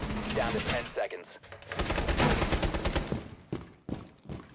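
Gunfire in Tom Clancy's Rainbow Six Siege during a biohazard container round, sharp bursts and scattered shots through the middle and late part, mixed with voice chat and game sounds.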